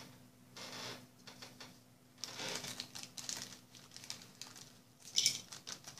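A small plastic bag holding switches for an Escornabot robot kit board is handled, giving soft, irregular crinkling and rustling in quiet, close-up bursts with a sharper crackle near the end.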